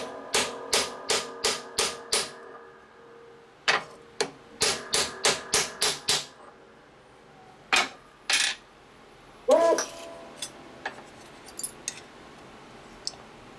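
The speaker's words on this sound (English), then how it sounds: "People ever heard of hammer and dolly? That's the dolly. That's the hammer." Sharp metallic hammer taps on a 1947-54 tombstone tail light bezel held on a dolly ring out in quick bursts of five or six strikes, pausing between groups, followed by a few scattered scraping clinks.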